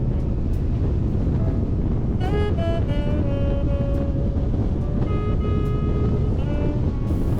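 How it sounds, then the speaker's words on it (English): Strong gusting wind while riding through Iceland buffets the microphone with a loud, constant low roar, while whining engine tones rise and fall faintly beneath it. "The wind is really picking up, as can be seen on the flag."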